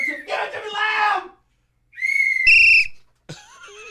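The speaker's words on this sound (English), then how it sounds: "I have to have a whistle right now. I have to. Give it to me loud." A loud, shrill whistle shrieks in several separate bursts, loudest near the middle, with voices and crowd-like noise between the blasts.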